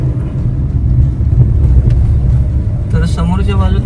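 A car cruises along a smooth, widened concrete ghat road near Gaganbawada, a steady low road and engine rumble heard from inside, with a voice joining near the end.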